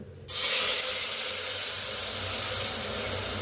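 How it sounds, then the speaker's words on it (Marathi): A sudden loud hiss and sizzle as water is poured into a hot cooker with cumin and bay leaf, sustained steadily for a few seconds with no voices. "पाणी ओतूया"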